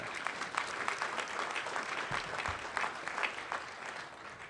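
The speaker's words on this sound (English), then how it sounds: "let's give it a round of applause" An audience claps together in sustained, even applause at the opening of the new SFPD headquarters and public safety building in Mission Bay, dense and lively, with a couple of low thumps partway through.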